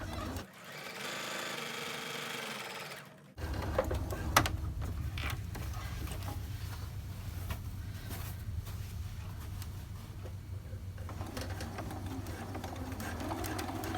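Sewing machine top stitching a fabric rice-filled heating bag, running as a steady mechanical whir and rapid needle chatter close by, with a short pause near the start, then continuous stitching to the end.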